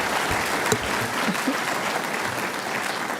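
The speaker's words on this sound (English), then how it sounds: "Let's give them a round of applause." An audience at a university staff performance awards ceremony claps in steady, dense applause that holds at an even level throughout, close and unbroken, with no clear voices above it.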